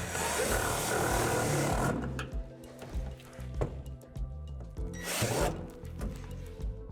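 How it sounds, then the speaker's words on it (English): A power drill bores into a wooden playset deck in two short bursts, with rubbing, handling noises and small knocks in between, close and fairly quiet. "there's some divots in the deck that we need to drill out"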